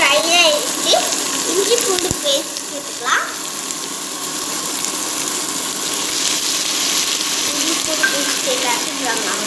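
Small onions sizzle and crackle in a pan for paneer gravy, a steady close frying hiss with occasional stirring scrapes, while a voice talks over the opening seconds.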